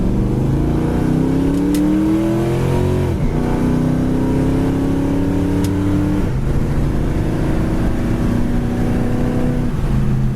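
A 1975 Plymouth Duster's engine revs up repeatedly, pitch climbing then dropping at each gear change, three rising pulls in a steady loud drone up to 80 mph.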